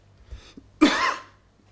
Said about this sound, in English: Learned to live with the coughing.